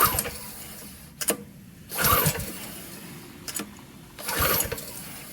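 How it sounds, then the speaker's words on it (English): A Husqvarna 3200PW power washer engine is pull-started at full choke and full throttle, with two rough cranking bursts each sputtering briefly before dying, separated by quieter pauses and short sharp clicks, close and without speech. "And I will go back to full choke and full throttle."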